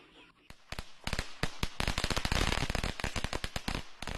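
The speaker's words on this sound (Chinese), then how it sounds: "在声声鞭炮中迎来了2011年的除夕" A string of firecrackers bursts on Lunar New Year's Eve 2011, a rapid, dense run of sharp pops that grows louder and thicker, close by.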